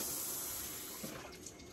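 Cabbage rinsed under a running kitchen tap: a steady, close, fairly quiet spray of water with slight splashing variations, no voices.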